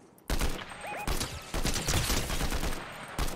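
Gunfire in Fortnite, several loud, close bursts of rapid shots with short gaps between them.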